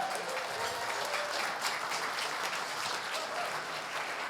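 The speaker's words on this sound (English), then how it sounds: "Give her a round of applause, please." Steady applause from a gala audience at a chamber of commerce dinner, many hands clapping at an even, moderate level for the whole stretch without pauses.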